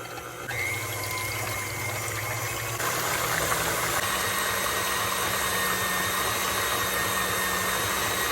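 An electric mixer whips cold cream toward butter, a continuous motor whir that steps up in speed partway through and then holds steady, with no talking over it.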